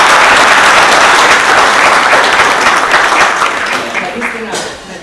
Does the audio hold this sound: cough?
no